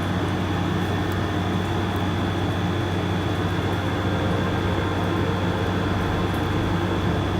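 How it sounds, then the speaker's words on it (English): A train rumbles past steadily for the whole stretch, a loud, dense and unbroken roar with a constant hum and no voices. "And there's the lovely train yet again."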